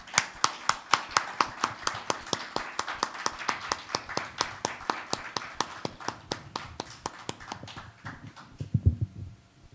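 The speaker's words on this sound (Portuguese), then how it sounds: "Eduardo Veras e Jorge Nabut, por favor, com aplausos do nosso público." Audience applause at a literary lecture in Portuguese as speakers are invited to the panel table, sounding as a steady run of sharp, evenly spaced claps for about nine seconds before fading out.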